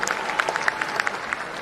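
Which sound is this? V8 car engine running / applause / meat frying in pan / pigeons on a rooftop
applause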